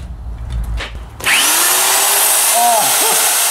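A commercial metal-cutting drill starts abruptly after a second of quieter sound and runs loud and steady through metal, with a harsh metallic whine and some shifting squealing tones.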